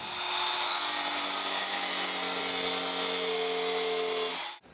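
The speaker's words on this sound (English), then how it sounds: "Getting them grips off. There's no room. No room to get between there. This calls for the grinder." Angle grinder cutting off rubber handlebar grips on an old electric Kawasaki quad, a loud, close, steady high whine held for about four seconds, then cut off abruptly as it spins down.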